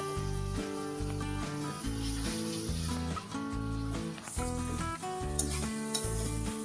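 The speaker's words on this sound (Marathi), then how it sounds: "याचं वाटण चांगलं परतून घ्यायचे।" Masala paste for chicken sizzles and spits as it is sautéed in a pan, a steady frying hiss running continuously beneath loud, rhythmic background music.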